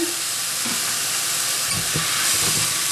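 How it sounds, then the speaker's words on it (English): Grated carrot and courgette fry in a pan, giving a continuous close hiss of sizzling with a few soft low bumps, and no speech. "I'm going to add in 1 carrot and 1 courgette I've simply peeled and grated, and I'm just going to pop that into the base of my pan"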